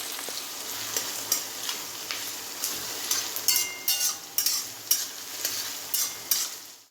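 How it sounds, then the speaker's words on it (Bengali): Onion, garlic, cardamom, cinnamon, bay leaf and dried chilli frying in a pan, a steady sizzle broken by repeated sharp spatula scrapes and clinks, close and without talk. "পেঁয়াজটা লাল করে ভাজা হয়ে গেছে"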